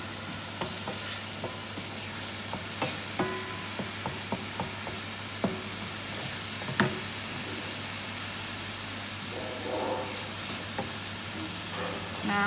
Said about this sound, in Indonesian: kita baru boleh menambahkan minyaknya untuk menumis